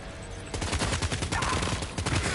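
Rapid bursts of assault rifle fire in Death Stranding 2, loud, close and continuous for about two seconds after a brief quieter lead-in.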